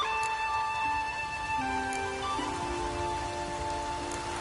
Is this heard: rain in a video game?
yes